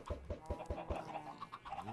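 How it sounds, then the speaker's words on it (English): Chickens clucking in modded Minecraft survival, a quick run of short rhythmic clucks followed by softer chatter, fairly quiet and alone. "And suddenly chickens."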